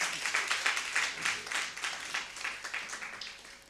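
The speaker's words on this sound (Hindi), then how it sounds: "जोरदार तालियां और एक बार।" Hearty audience clapping at an Indian women's poetry event, a lively round of applause that rises and falls in bursts, moderately loud and without speech.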